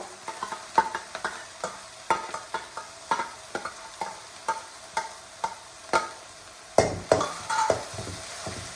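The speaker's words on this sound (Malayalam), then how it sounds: "ഒരു വലിയ സവാളയും പച്ചമുളക് 2 എണ്ണം ചെറുതാക്കി അരിഞ്ഞാണ് ഇതിട്ട് കൊടുക്കാം" Chopped onion and green chillies frying in a pan, a soft continuous sizzle punctuated by regular scraping stirs of a spatula, close and fairly loud.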